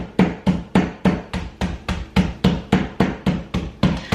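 A hammer pounds Oreo cookies to crumbs in a home kitchen for making cake pops, a fast, even run of about a dozen loud, close thuds with nobody talking.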